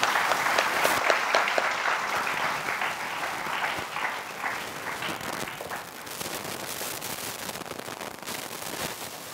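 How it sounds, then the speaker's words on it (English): An audience at an academic talk on scientific meditation and stress coping greets the arriving speaker with loud, dense applause, many hands clapping continuously and sustained throughout. "please welcome sir with the thunderous sound of clapping"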